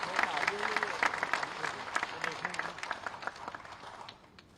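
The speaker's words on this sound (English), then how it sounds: "Please give a big round of applause on this occasion." Audience applause at a law university inauguration ceremony, a dense wash of clapping in a large hall with some voices underneath, tapering off toward the end.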